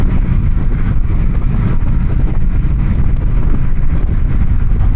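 Riding along, the stock-exhaust Honda Shadow Phantom 750 gives a steady, loud low growl as it gains speed, with constant wind roar over the microphone and no voices.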